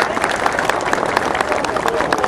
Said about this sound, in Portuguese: Eu peço aí uma salva de palmas para as autoridades que eu falei aí.